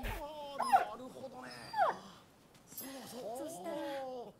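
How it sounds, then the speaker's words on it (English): A dog in the video game Rise of the Ronin gives several high, wavering whimpers and whines in short bursts, fairly close and soft, with a few rising cries near the end. "Pet the pretty little doggy."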